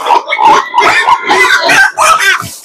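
Pigs on a pig farm grunt and oink loudly at close range, a rapid run of overlapping snorting calls with only brief gaps between them.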